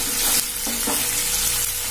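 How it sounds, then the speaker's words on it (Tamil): Curry leaves and rock salt sautéing in hot oil in a pan for a poori kurma, a steady close sizzle with a couple of spoon scrapes, no talking. "அடுத்து கல்லுப்பு சேர்த்து நல்லா வதக்கிக்கணும்."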